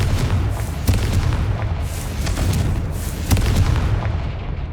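Confringo fire spell blasts in Hogwarts Legacy, a loud booming explosion that rumbles continuously with a few sharper bursts, heard alone without speech.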